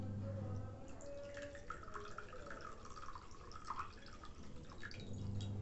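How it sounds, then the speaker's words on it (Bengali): Vinegar poured into a bowl while cleaning an LG 28L convection microwave oven, a soft steady trickle and faint drips running close by with no talk. "এখানে নিয়ে নিচ্ছি একটা বাটি, আর এর মধ্যে দিয়ে দেবো আমি ভিনিগার।"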